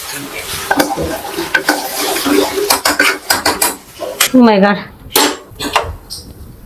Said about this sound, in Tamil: குருமாவை வந்து தாளிக்கணும்